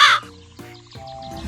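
A crow caws loudly in a burst at the start, followed by a couple of softer tonal calls, short and close in a cartoon story setting.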